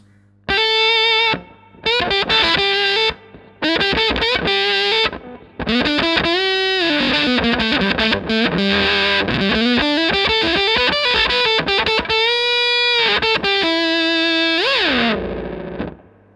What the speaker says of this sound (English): here's the Octavia neck pickup of the Strat